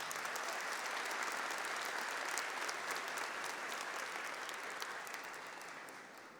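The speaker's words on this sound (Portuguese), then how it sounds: "Vamos dar uma salva de palmas para quem está em casa?" A church congregation claps steadily as one broad wash of applause, slowly thinning and fading toward the end, with no voices over it.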